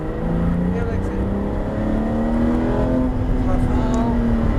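Porsche GT3 RS accelerating on a race track at the Abbeville stadium circuit, a steady engine note rising in pitch as it pulls, loud and close throughout, with a person talking over it.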